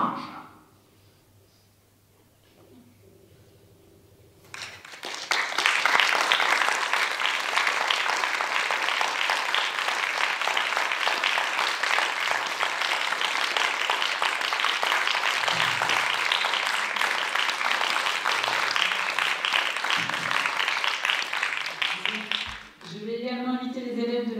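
Loud, sustained audience applause after a theatre reading by a drama company at a French high-school literary prize event, starting after a few seconds of quiet and holding steady for nearly twenty seconds before briefly dipping.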